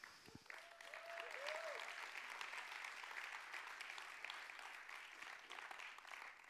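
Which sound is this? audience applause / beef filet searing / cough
audience applause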